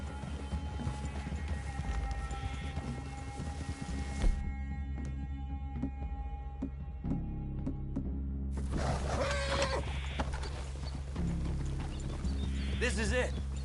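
Horses in Red Dead Redemption 2 clip-clop at a slow walk beneath a steady low game ambience, with voices talking over part of it.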